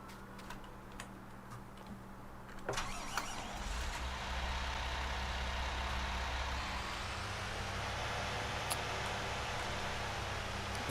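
A tractor hitched to a trailer in Farming Simulator 19 starts up after a few ticking clicks, then settles into a steady low engine drone that runs on without talk.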